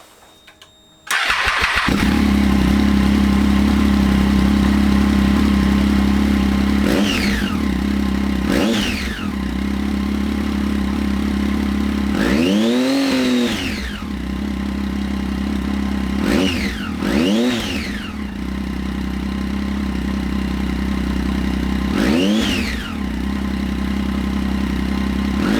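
A motorcycle engine starts and settles into a steady idle, then gets several sharp throttle blips that rise and fall back quickly after its throttle grip was freed from binding, loud and close with no talk.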